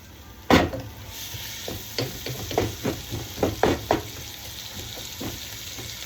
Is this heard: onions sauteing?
yes